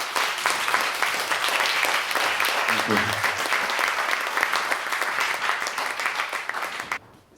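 Audience applause at an art talk for a sculptor working with recycled materials, steady dense clapping for about seven seconds before stopping abruptly, with a brief spoken thanks over it.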